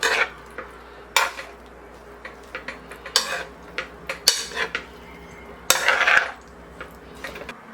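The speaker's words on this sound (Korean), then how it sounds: "이렇게 해서 치적치적 해주는 거예요. 골고루 섞이게." A spoon stirs and scrapes seasoned radish namul dressed with perilla oil in a pan, giving sharp intermittent clanks and scrapes of utensil on metal with quiet pauses between.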